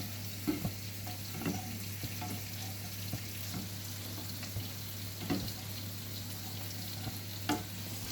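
Steak sauce made with cooking cream simmers and sizzles in a pan, a soft, continuous bubbling hiss with occasional light stirring scrapes and clinks, heard alone at low volume.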